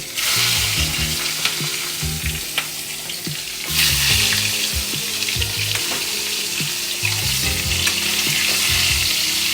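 Cut eggplant fries in a pan with nigella seeds, a loud continuous sizzle broken by repeated stirring scrapes and clinks throughout.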